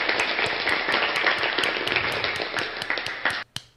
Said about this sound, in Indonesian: Tepuk tangan buat Kristen.